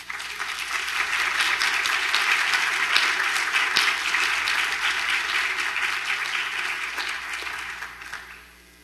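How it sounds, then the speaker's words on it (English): Sustained audience applause at a first-generation student graduation ceremony, a dense wash of many hands clapping steadily for several seconds before tapering off near the end. "Can we help me give me a round of applause to these offices?"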